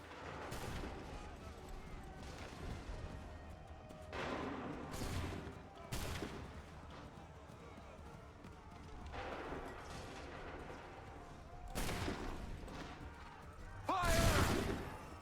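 Musket volleys and artillery in the video game Assassin's Creed III, with several separate sharp blasts spaced a few seconds apart over a low battlefield rumble, the last one loudest and nearest, while voices talk underneath.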